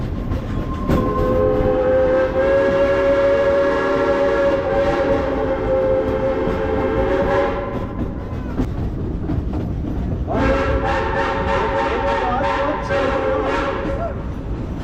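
A heritage steam train of the Frisco Silver Dollar Line at Silver Dollar City, Branson, Missouri, rumbles loudly and continuously, with a long sustained horn blast, a pause, then another horn sounding over the steady rolling noise.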